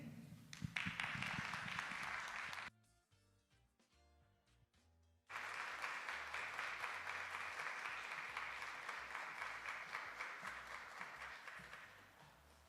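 An auditorium audience at a rap concert applauds to welcome the Mixe rap group, steady clapping that drops out briefly midway, then resumes and carries on to the end.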